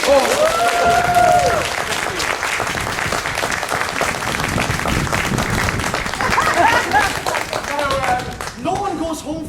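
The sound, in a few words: tour group clapping for a performer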